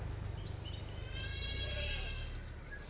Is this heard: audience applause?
no